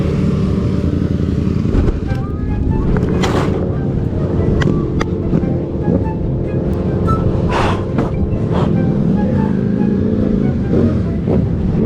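A motorbike engine hums steadily at close range while riding, with wind buffeting the microphone and a few sharp clicks and knocks, as the bike catches fire.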